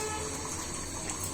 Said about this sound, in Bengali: তাই একটু পানি দিয়ে